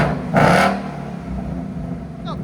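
One short, loud throttle blip from a stock 2025 Ford Mustang Dark Horse with active exhaust, before an X-pipe is added, then a low idle burble nearby while someone briefly speaks.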